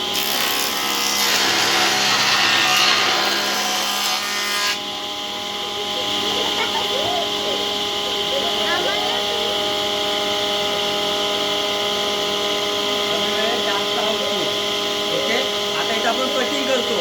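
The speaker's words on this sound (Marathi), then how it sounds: "आता मी तुम्हाला थोडा रंधा मारून दाखवतो" An electric wood planer machine run by a local carpenter planing a wooden board: a harsh, loud cutting roar for the first few seconds, then a steady motor hum with scraping and handling noises as the machine keeps running.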